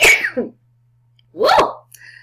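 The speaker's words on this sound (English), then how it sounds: "Sorry, guys, I keep sneezing." Two sharp, loud sneezes up close, separated by a short silence, with a faint steady hum underneath.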